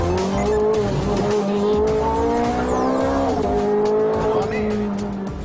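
Ferrari race car lapping a test track, a loud sustained engine drone with shifting harmonic pitch and tire noise, heard continuously with a voice talking over it.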